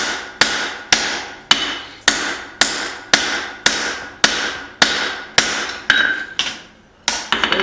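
A hammer strikes a forged hatchet to smooth cross peen marks, a steady run of about fifteen sharp, ringing metallic blows close by, evenly spaced, with a brief pause near the end.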